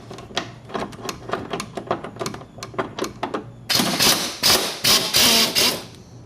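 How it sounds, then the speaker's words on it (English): Ratchet clicking steadily as 16mm upper shock bolts come off a Dodge Challenger's rear suspension, a run of rapid close clicks followed by louder, faster ratcheting bursts. "Next thing I want to do is remove the two 16mm upper shot bolts."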